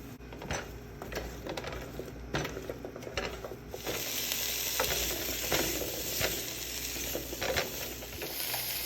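Bratwurst and peppers frying together in a big pan give a steady sizzle, with scraping and stirring clatter on top that grows denser and louder partway through.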